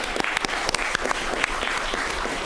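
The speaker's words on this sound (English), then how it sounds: "I'd like to give a round of applause even for the people that aren't here" Steady applause fills a city council meeting room, many hands clapping at once, fairly close and continuous with no talking over it.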